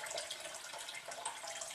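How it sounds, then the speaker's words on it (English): Water steadily poured into a tofu-making mix to thin it, a continuous splashing, trickling flow heard close and alone with no talk. "make sure you add water, add enough water"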